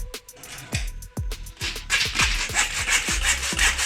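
Rhythmic sawing strokes through a PVC room-partition strip, close and steady, growing harsher and brighter partway through.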